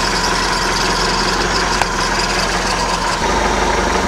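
The engine of a 1976 Starcraft boat idles in a loud, close, steady low drone with an even vibrating texture and no voices.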